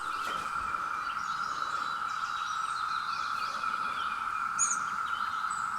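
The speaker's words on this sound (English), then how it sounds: "If you hear a noise in the background, those are cicadas." Cicadas drone in a no-till home garden during a heavy cicada year, a steady, unbroken high buzz held at an even level throughout, with a few brief bird chirps and tweets on top.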